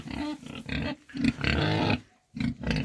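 Piglets on a small farm grunting and squealing in short bursts, close by, with brief pauses between noisy clusters of snorts.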